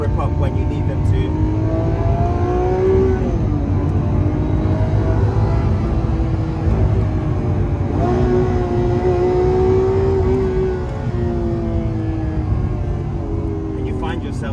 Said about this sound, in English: you find yourself shifting a lot more than you're supposed to just because of the sound of the V12